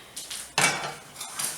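Heavy cast iron skillet handled with pot holders on a stovetop, giving a sharp metallic clank followed by lighter scraping and knocking, close and fairly loud with no talking.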